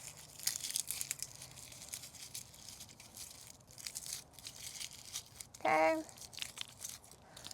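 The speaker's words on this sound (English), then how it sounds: "So first we're gonna go ahead and separate our garlic. So you just peel off the layers." Papery outer skins being peeled off garlic bulbs, with short crinkling, tearing rustles near the start, then quiet handling, and a brief spoken word near the end.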